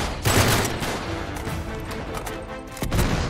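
Rapid gunfire bursts from enemies in the video game Uncharted 3: Drake's Deception, a dense fusillade of shots with louder blasts near the start and end, steady and close throughout.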